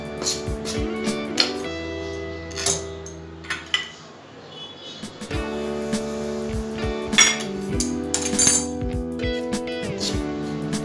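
Metal spoon clinking and scraping in a pan while mixing bhakarwadi filling, with a series of sharp, irregular taps and clinks close up, briefly pausing mid-way.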